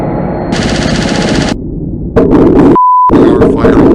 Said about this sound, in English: They are firing back at us.